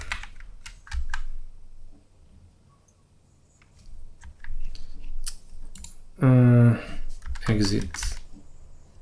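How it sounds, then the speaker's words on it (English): Clusters of quick key clicks on a computer keyboard while coding, close and fairly loud, coming in short bursts with gaps, and a voice speaking briefly over part of it. "I keep pressing stupid keys by accident."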